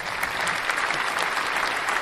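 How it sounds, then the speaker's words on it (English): A round of applause rings out on a podcast, with a steady, dense wash of many hands clapping at even loudness throughout, close and full, with no talking over it. "we're going to give our viewers a round of applause on that one"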